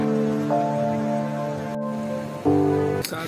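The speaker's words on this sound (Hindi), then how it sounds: "बारिश हो रही है" Rain falls steadily at a campsite in Kumrat Valley, a continuous soft hiss carrying under tonal hum and brief clatter, with no talk.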